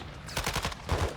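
Gunfire in the video game Modern Warfare 2, a rapid burst of automatic shots rattling off in quick succession, loud and close.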